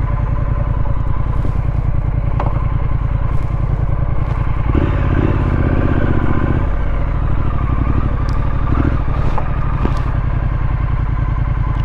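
A Triumph Street Scrambler motorcycle rumbles loudly and steadily up close as it rides off, a continuous deep engine drone with shifting revs and some wind and road clatter, no voices over it.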